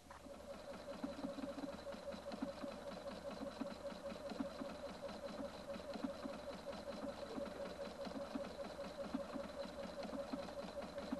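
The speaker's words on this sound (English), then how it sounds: "Place tearaway stabilizer underneath the suede and sew along the first line." A Husqvarna Viking Designer II sewing machine stitches through suede backed with tearaway stabilizer, its needle chattering in a fast, even rhythm for a long unbroken run, close and moderately quiet.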